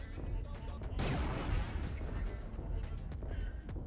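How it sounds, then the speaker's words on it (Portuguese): A single gunshot fires in the Skibiverse video game, a sharp, loud blast that fades into a rumbling tail, with some talk and game noise around it. "Dá um tiro nisso aqui."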